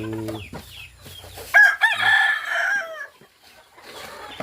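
Fighting cocks and chickens on a farm cluck and then break into loud, close rooster crows, several overlapping calls across a few seconds with no talking.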